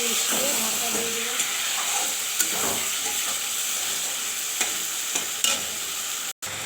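Marinated chicken sizzles and fries in spiced masala in a pan while being stirred, giving a steady close hiss with occasional scraping clicks. A voice speaks over the cooking.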